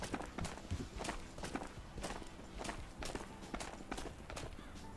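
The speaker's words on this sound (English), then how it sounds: "Thought I heard footsteps." Footsteps in the video game Ghosts of Tabor, a steady run of evenly spaced steps on a hard surface, faint and somewhat distant, with no talking.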